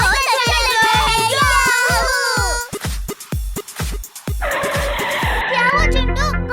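A cartoon car skids to a sudden stop with a sharp tire squeal, following a stretch of rapid, bouncy animated music and voices; a child-like voice speaks over the sounds.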